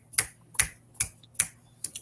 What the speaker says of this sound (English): I'm gonna give you some snaps